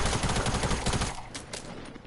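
Gunfire from the video game Fortnite with a pump shotgun: a loud cluster of rapid shots crowded together in the first second, followed by fainter, scattered reports.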